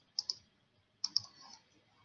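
Keys on a computer keyboard are tapped during work in a CAD sketching program: two quick clicks, a pause, then another pair of taps, soft and close, with no talking.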